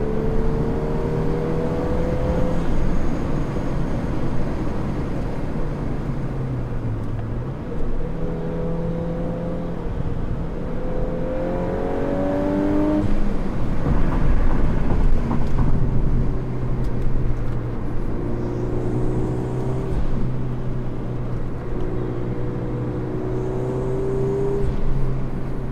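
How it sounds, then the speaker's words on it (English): A quick 2024 Volkswagen Golf R drives hard through mountain canyons. Its engine note rises and falls in repeated revving sweeps over steady road roar, swelling louder as it passes by near the middle, then trailing off. "Definitely a quick car in the canyons. There he goes."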